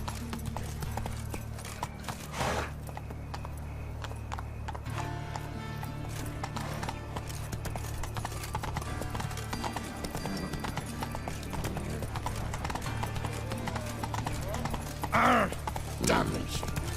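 Hooves clip-clop steadily as a horse gallops in The Witcher 3 video game, a continuous rhythmic pounding over a loud droning music and ambience bed, with a brief neigh-like burst near the end.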